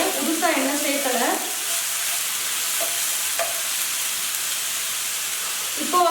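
Two green chillies frying in reused mushroom oil for mushroom Manchurian, a constant hissing sizzle with a brief voice at the start and a few soft clinks, then steady frying alone.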